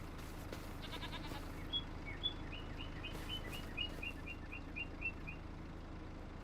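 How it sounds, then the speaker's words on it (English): Baby goat on a Farming Simulator 25 farm, heard as faint bleats over a low ambient bed, along with a run of small chirping calls and no speech. "I think that's a little baby goat, isn't it?"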